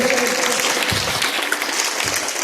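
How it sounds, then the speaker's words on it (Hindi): Classroom applause for children in a school, a steady burst of clapping from a room of kids, close and continuous throughout, with faint voices mixed in. "तालियों से बच्चों की हौसला अफजाई करें।"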